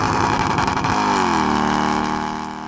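A Lexus LS400 V8 held in second gear at full throttle on track, the engine howling loud and close as it bounces off the rev limiter, its steady roar flickering at the cutoff before the pitch eases down.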